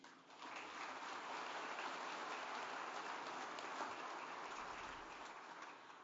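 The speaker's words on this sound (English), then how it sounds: "Please give a round of applause to all of those that supported the Hall of Fame" A steady round of applause from the audience at a rodeo Hall of Fame induction ceremony, sustained dense clapping that rises quickly and holds evenly for several seconds at moderate distance.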